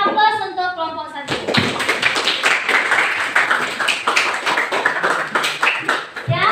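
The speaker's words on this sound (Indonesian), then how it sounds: "Beri aplaus untuk kelompok 1." A classroom of pupils claps for a group of classmates, a dense, busy burst of hand clapping that starts abruptly after a brief voice and continues steadily for several seconds, fairly close and loud.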